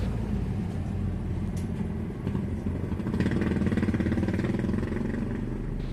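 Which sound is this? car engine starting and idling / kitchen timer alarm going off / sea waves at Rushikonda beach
car engine starting and idling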